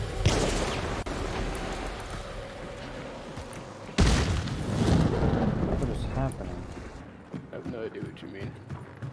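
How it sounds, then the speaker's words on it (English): A barrel explosion in the Hunt: Showdown shooter game: a heavy booming blast near the start and a second loud burst midway, followed by rumbling, crackling aftermath. "I blew up a barrel"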